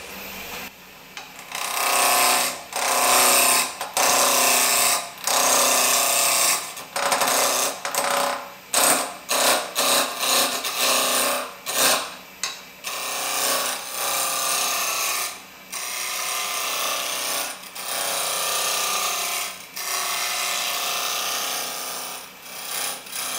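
Wood spindle turning on a lathe with a spindle roughing gouge, a continuous loud rasping scrape with rhythmic interruptions as the tool rides the spinning blank.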